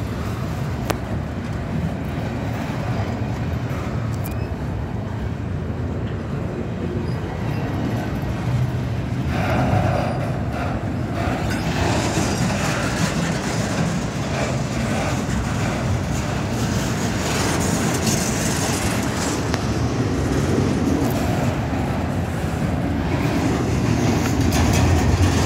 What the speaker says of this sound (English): Quite a long train.